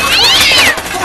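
A kitten meows loudly and close, one drawn-out, wavering cry that rises and falls in pitch, lasting about a second, with no talk over it.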